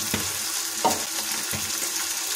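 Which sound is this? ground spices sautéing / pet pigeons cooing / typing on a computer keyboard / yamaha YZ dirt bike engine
ground spices sautéing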